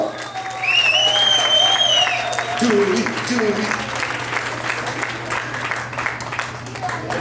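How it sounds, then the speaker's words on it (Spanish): An audience at a Latin American neural therapy gathering applauds a certificate recipient, a steady wash of clapping that stays loud throughout while a voice speaks over it. "Un aplauso para ella, por favor, vamos"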